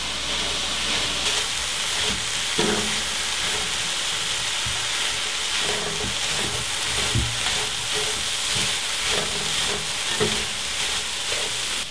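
Cabbage and garlic sizzle steadily in a hot pan, a continuous loud frying hiss with occasional crackles and pops, close up and with no talking.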